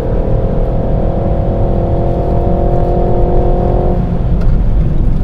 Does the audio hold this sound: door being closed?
no